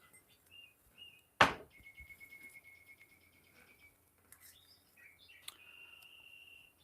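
A pet bird sings a few thin chirps and sustained whistled notes indoors, quiet and somewhat distant, alongside a sharp knock and other faint room noises.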